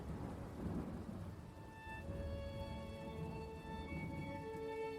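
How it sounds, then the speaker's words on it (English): Thunderstorm ambience over sleeping hills in winter: steady rain on surfaces with a low, rolling thunder rumble underneath, continuous and fairly full throughout, with no voices. "the first low rumble of thunder rolled across the sleeping hills"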